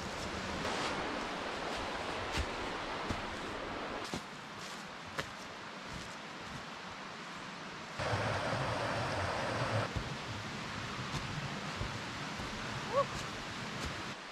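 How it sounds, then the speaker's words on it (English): Steady rushing roar of a waterfall, about 20 meters high, in a gorge, constant and fairly distant, with a brief louder surge midway and a few faint footsteps and small knocks. "The fifth waterfall."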